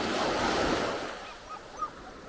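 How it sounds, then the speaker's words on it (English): Big ocean waves surge and wash along the shore, a loud broad rush that slowly fades into softer hissing surf with a little wind across the microphone. "All those big waves, hey?"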